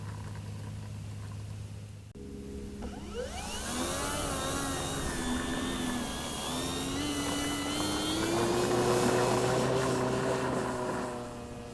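An electric Kavan Bristell B23 1600mm RC model airplane on a grass field: a motor whine that spools up and rises in pitch as the model takes off, then a steady droning buzz that swells louder as it passes.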